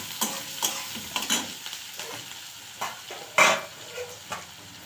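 Onion sprinkled with a little salt fries in a pan, with soft sizzling under irregular scrapes and clinks of a spoon stirring against the pan, one louder clatter midway.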